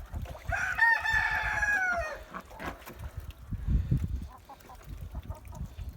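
A rooster crows once loudly up close, followed by softer clucks and murmuring from hens amid rustling and scratching.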